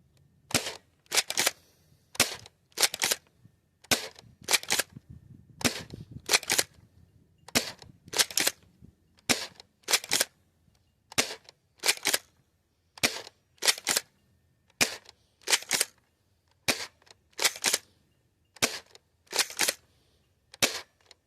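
A Dart Zone Max Nitroshot+ Stryker spring blaster slam-fires dart after dart from a drum, each shot a sharp loud crack in a fast, fairly even rhythm with brief pauses, alone without talk.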